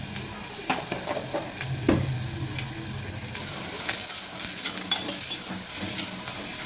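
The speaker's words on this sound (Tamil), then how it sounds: "வெங்காயம் வதங்கும் போது கருவேப்பிலை கொஞ்சம் போட்டுக்கலாம்" Onions and curry leaves sauté in a pan, giving a steady close sizzle broken by a few scraping stirs, with no one talking.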